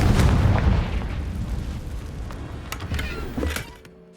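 A Confringo blasting spell explodes in Hogwarts Legacy, the game, with a loud boom at the start that rumbles away, followed by scattered sharp crackles and pops as it fades.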